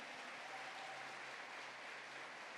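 A church congregation at a worship event applauds with a faint, steady wash of clapping heard at a distance, evenly sustained and without distinct individual claps.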